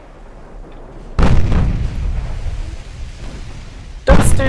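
Heavy naval guns fire in a warship battle in Ultimate Admiral Dreadnoughts, two loud booming salvos a few seconds apart, each with a rumbling tail.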